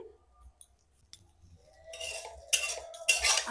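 Vermicelli being stirred in ghee in a pan over low heat: a few light metallic clinks of a utensil, then bursts of scraping and rustling as the strands are turned, close and quiet, no voices.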